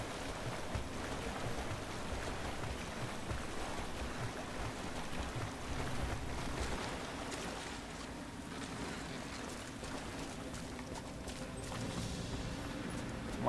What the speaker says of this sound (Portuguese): Nadando aqui.